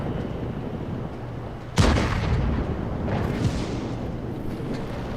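Artillery fires in a tank video game, with a KV-2 in play. A single loud blast hits sharply and trails off into a rumbling decay. A fainter second boom follows, all over a steady background hum.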